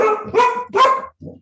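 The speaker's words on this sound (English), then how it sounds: "that's my dog" A dog barks three times in a quick, loud run, close by, followed by a softer, shorter fourth bark.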